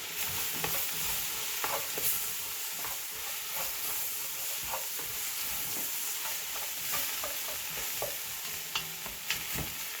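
Okra sizzles and crackles steadily in a hot frying pan while being stirred and turned, with scattered scraping clicks over a continuous hiss and no talking.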